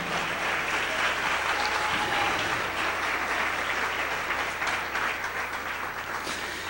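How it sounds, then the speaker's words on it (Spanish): Congregation applauding during a church service, a dense sustained roar of clapping that stays even for several seconds, moderately loud and without talk. "Den un aplauso al Rey en esta gloriosa mañana."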